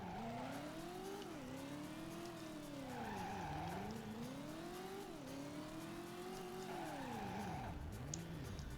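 A car in the Driver video game skids through a reverse 180 turn, tires squealing as the engine revs rise and fall in repeated swooping arcs, loud and continuous.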